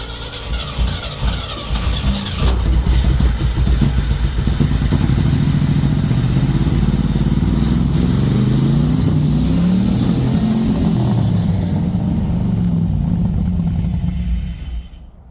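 Engine of a 1964 Chevy Suburban with a repaired carburetor cranks and catches, then runs loud and close with uneven revving and rough, surging idle for about twelve seconds before cutting off.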